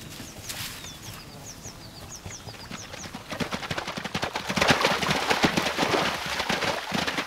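A herd of wild horses moves across ground in Italy, hooves clip-clopping in a dense, irregular patter that grows louder and closer, with birds chirping faintly at first and no voices.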